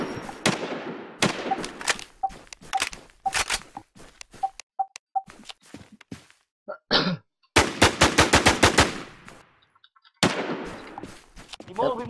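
Gunfire in the survival shooter Infestation: bursts of rapid automatic shots alternate with single sharp cracks and gaps of near silence, loud and close, with someone talking in between.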